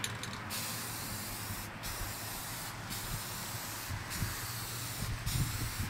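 Steady hiss of spray paint from an aerosol can coating screws for a hurricane-proof soffit install, continuous and fairly close, with a few brief pauses between bursts.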